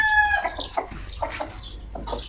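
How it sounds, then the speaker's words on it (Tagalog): Backyard chickens cluck and call in a small home coop, with several overlapping hen and rooster sounds throughout, close and fairly loud over steady outdoor noise. "Ngayon, nagbibilad siya ng manok."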